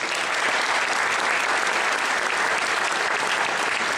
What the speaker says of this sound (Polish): Przywitajmy ich oklaskami.